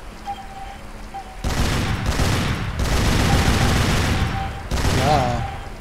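Heavy turret gunfire from the Tomb Raider Legend video game, in loud sustained bursts broken by short pauses, with game sound effects around it and no talk.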